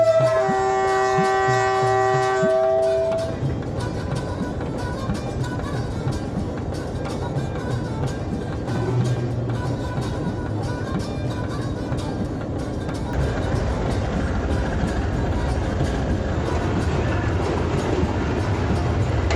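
A train shunting back toward a station platform on the Sibi to Quetta line in Pakistan, a steady low rumble of wagons and engine running throughout, with a brief horn-like tone at the start and faint voices in the background.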